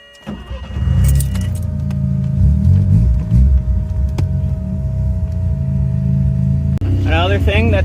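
A Mazda RX7 sets off on a drive, its engine rumble starting up and holding loud and close for several seconds, with a voice briefly audible near the end.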